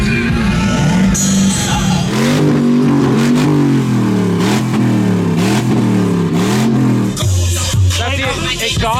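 A truck with its exhaust deleted revs hard at a beach truck meet, loud raw engine tone rising and falling in repeated pulls close by, with crowd shouting and noise around it.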